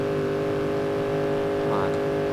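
A car engine in BeamNG.drive revs hard under full throttle, a steady droning tone with a brief rising sweep near the end, loud and close.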